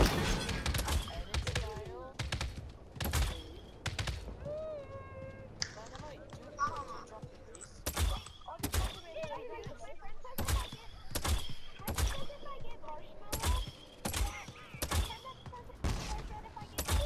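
Gunfire in the battle royale game Realm Royale: a steady run of sharp, punchy shots about every half second, close and loud, with a player talking between and over some of the bursts.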